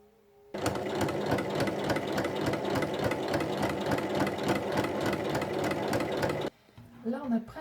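Sewing machine running steadily for about six seconds with a rapid, even stitching rhythm as it topstitches 1 mm around the edge of a small fabric pouch with two little handles, then stopping; brief speech follows.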